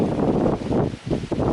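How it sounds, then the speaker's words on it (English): Strong hurricane wind roars across a beach, a steady broadband rush buffeting the microphone with gusting surges and a brief lull midway. "It's really windy."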